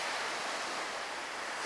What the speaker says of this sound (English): Whoa, look at these waves.